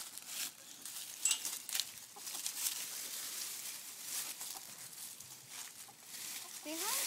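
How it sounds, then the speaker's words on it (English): Chickens cluck faintly outdoors in short, scattered bursts. A dog is nearby and a person talks over the birds. "There's the chicken."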